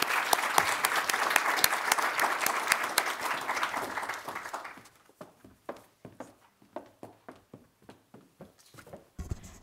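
An audience applauds to welcome a speaker at a student forum, with full clapping that thins to scattered individual claps before stopping.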